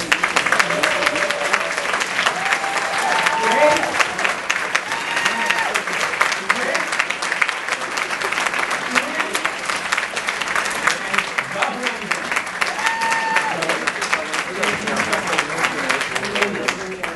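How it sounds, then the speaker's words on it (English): Sustained applause from an audience at a hair show, steady dense clapping lasting throughout, with faint voices mixed in. "I would love to hear a big round of applause for Tammy."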